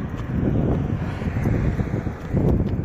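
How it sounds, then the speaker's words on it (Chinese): Strong seaside wind near Jinzhou roars and buffets the microphone while cycling into a headwind, a loud, continuous low rumble with no talking. "这大风"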